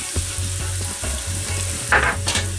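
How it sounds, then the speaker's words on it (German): Chopped onions and garlic drop into hot oil in a pan and sizzle steadily up close, with scraping and clinks of a utensil stirring, and no speech. "Das lasse ich kurz heiß werden und gebe dann die Zwiebelchen"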